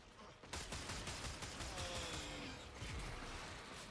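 Rapid bursts of gunfire from the Akmagnus Prime pistol in the Warframe video game, fired under a buff from a Warframe ability, with dense close shots and game effects running for several seconds.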